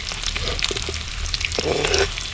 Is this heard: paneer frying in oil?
yes